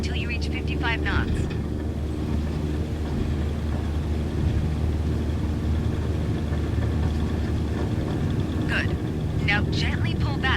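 The steady, droning roar of a light airplane engine at full power fills the takeoff roll in Microsoft Flight Simulator. A voice speaks over the engine near the start and again near the end.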